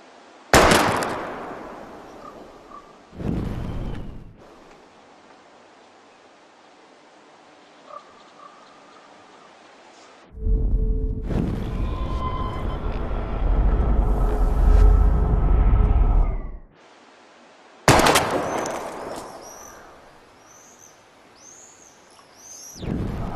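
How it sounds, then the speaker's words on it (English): Gunshots aimed at bottles in the video game Life is Strange: a few sharp, loud shot bursts separated by long quiet stretches, with a sustained mid-clip din and a ringing tail after the last shot. "We're gonna shoot all these bottles without wasting a single bullet."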